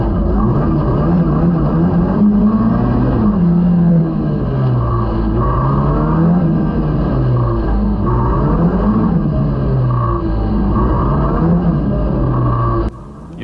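A race car on a greasy wet track holds a steady loud engine drone that swells and dips as the revs rise and fall through sideways slides, continuous and close throughout.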